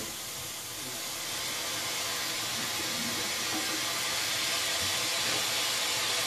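Steam hisses steadily from a palm fruit cooker at a small palm oil mill, a broad continuous rushing noise that swells slightly and holds at a constant loud level throughout, with no voices.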